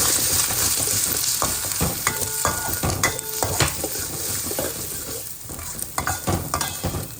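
Two eggs with a little turmeric powder stirred in a hot frying pan for an egg and cabbage poriyal, a steady close sizzle with scraping spatula strokes and light pan clatter throughout, no voices.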